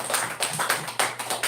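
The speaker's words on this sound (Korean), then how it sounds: "우리 하나님께 영광의 박수를 올려드립니다" A church congregation at a Wednesday prayer service breaks into applause, a quick run of rhythmic claps at moderate level, close and roomy, with no talking over it.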